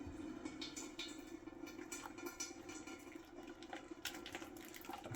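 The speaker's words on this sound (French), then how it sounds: "Il faut juste mettre ça dans le coton fromage avec une passoire," Curdled milk pours through cheesecloth in a strainer, giving a continuous soft splashing trickle with small irregular spatters, faint and close.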